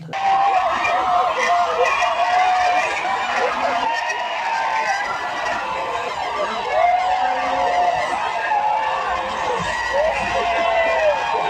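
An ambulance siren wails in repeating rising and falling sweeps, loud and fairly close, over a continuous murmur of a crowd and general street noise.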